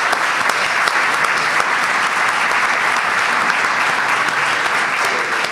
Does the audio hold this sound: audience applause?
yes